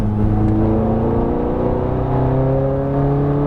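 A Ferrari F430 Scuderia on the Las Vegas Motor Speedway race track, heard from inside as the engine accelerates with a loud, sustained, rising mechanical drone and strong harmonic tones, alone with no talk.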